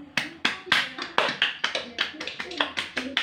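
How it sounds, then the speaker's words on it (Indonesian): Children performing a 'tepuk hebat' clapping cheer in a class session, a rhythmic run of about a dozen sharp, close hand claps in a patterned beat, with voices chanting along. "Tepuk hebat untuk kelompok cerdas."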